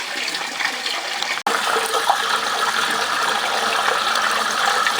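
Water rushes and swirls in a gold prospecting pan at Reedy Creek in North East Victoria, a steady close gushing broken by one brief dropout.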